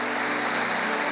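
A church congregation claps together in a dense, steady burst of applause that fills the room, loud and continuous for a short moment with no talking over it.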